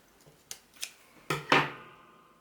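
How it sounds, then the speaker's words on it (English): An extra bit is trimmed off while a hexagram suncatcher is being made: four quick, crisp snips close by, the last two louder and ringing briefly, in a quiet room. "I'm going to cut that extra bit off."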